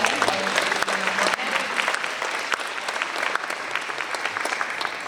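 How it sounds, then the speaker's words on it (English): Steady applause from an audience fills the whole stretch, dense clapping at an even level with no pauses. "Please give all of them a round of applause."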